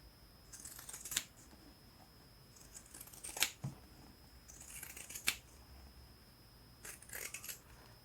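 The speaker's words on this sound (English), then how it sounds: "Pinking shears will help stop the fraying, but it also just has like a really nice neat finished look" Pinking shears cut through fabric in four separate crisp, crunching snips spaced a couple of seconds apart, close and fairly quiet with near silence between cuts.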